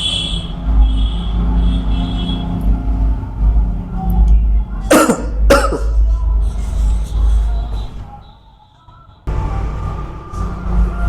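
A man coughs in a couple of sharp, close bursts around the middle of the clip, over steady room hum with a brief quiet gap near the end.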